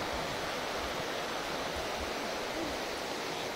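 A small river flows steadily nearby, its broad rushing wash continuous and fairly even throughout, with no talk over it.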